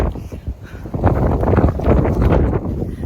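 Strong gusty wind buffeting a microphone on the Appalachian Trail, a heavy low rumbling roar that swells and surges in gusts, close and loud, with no talking.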